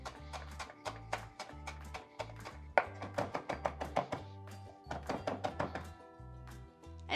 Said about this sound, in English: we're gonna chop some cilantro